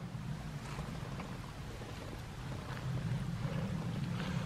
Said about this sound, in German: Hier auf jeden Fall mit fließendem Wasser und einem Drainagerohr.